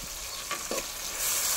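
Onions fry in a pan as turmeric is added, giving a soft continuous sizzle with a few quick stirring scrapes, then a louder hiss surging near the end, close and without talk.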